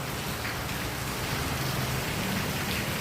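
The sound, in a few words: heavy rain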